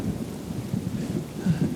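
Rain falling with a low rumble of thunder, a steady dense wash with a deeper roll swelling near the end, with no voices.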